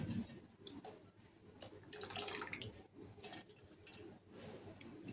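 Water drains and splashes out of a container of soaked sprouted mung beans in a kitchen, an uneven close-up trickle and pour with brief louder gushes, fairly quiet overall.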